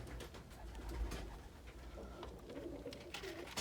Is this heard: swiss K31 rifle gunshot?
no